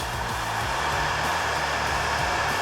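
A heat gun blows a steady, loud hot-air roar onto heat shrink tubing during a 7.3 Powerstroke wiring job, the whir holding constant and close with no talking.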